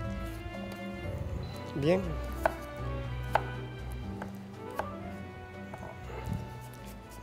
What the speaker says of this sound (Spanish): vamos a empezar picando los ajos